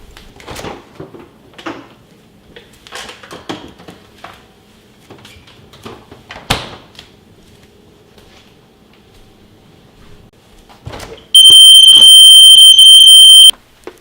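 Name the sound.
portable light-triggered alarm siren sounding in a refrigerator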